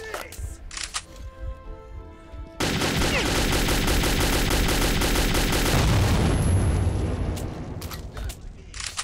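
A sudden loud explosion bursts into sustained gunfire and rumbling combat noise in the shooter game Metro 2033, with shouting voices before and after the blast.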